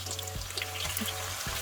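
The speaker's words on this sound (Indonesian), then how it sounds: "Lalu kita mulai menggoreng bawang putihnya ya." Garlic frying in oil over medium-low heat, a steady soft crackling sizzle with a low hum underneath, faint and continuous with no talking.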